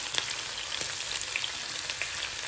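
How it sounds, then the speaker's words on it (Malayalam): Green chillies fry in hot oil for a tamarind pickle, a close, steady sizzle with scattered sharp pops and crackles throughout, and no voices. "നമ്മൾ പച്ചമുളക് ഇടുന്നു. പച്ചമുളകും 1 മിനിറ്റ് ചൂടാക്കുക."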